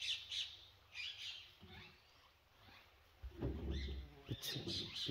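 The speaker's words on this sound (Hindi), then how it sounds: "आवाजें आ रही हैं पैरट की," Parrots call and squawk in the Gir forest during a jungle safari, bursts of bird calls rising mid-distance over engine rumble and a voice, brief chirps recurring through the clip.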